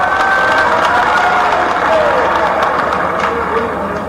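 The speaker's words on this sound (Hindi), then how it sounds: "वैसे आपने ताली इसकी बजा दी" Dense, steady applause fills a large hall at a state-level panchayat secretaries' conference in Bhopal, loud and continuous with a crowd murmur throughout.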